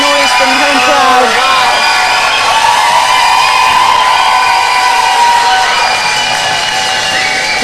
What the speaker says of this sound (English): Big noise from the home crowd.